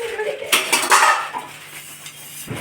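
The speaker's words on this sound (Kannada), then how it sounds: "ಅಷ್ಟೊತ್ತಿಗೆ ಸ್ವಲ್ಪ ಪಾತ್ರೆ ಇತ್ತಲ್ಲ ಅದನ್ನ ತೊಳ್ಕೊಬಿಡ್ತೀನಿ" Pots, dishes and cutlery being washed by hand in a home kitchen, with clattering metal knocks and scrapes in uneven bursts, close and fairly loud, with faint running water.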